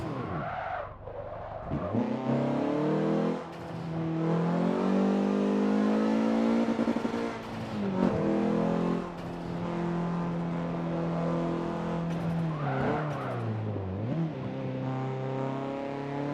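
Race car engine in Forza Motorsport 7 held in second gear, revving loud and steady with rising and falling pitch, brief dips between bursts and some tire skidding, no talk.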